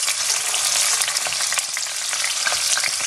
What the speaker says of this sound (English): So I'm just gonna add the garlic and ginger paste now, and try to mix it.